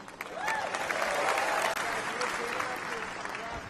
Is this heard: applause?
yes